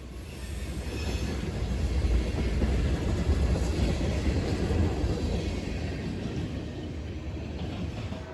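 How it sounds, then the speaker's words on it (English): Long freight train of tank cars, hopper cars, box cars and center beams rolling past, a steady heavy rumble of wheels on rail with faint squeal, continuous and fairly near. "A lot of this train seems to be tankers, with a few hopper cars, box cars, and center beams."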